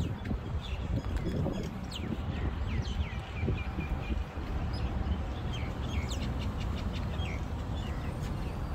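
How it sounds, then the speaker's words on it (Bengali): Small birds chirping and calling among maintained greenery beside a Dubai tram line, several thin tweets over a constant background hum, no talk. "শোনো কি সুন্দর পাখির আওয়াজও শুনতে পাওয়া যাচ্ছে।"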